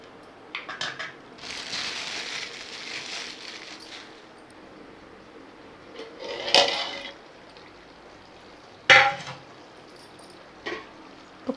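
Garlic, a handful of coconut and a little poppy seed are ground to a paste in a kitchen mixer for paruppu urundai kuzhambu: a short whirring grind, then scattered clicks and clatter of the jar.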